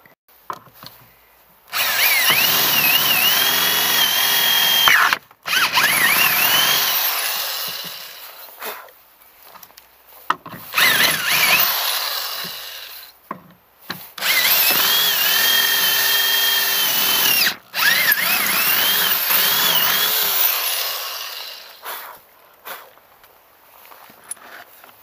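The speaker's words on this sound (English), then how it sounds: "I'm going to drill these two holes out." Power drill boring out two mounting holes while installing an Argo boat motor mount, with two long loud whining bursts separated by short pauses and brief stops.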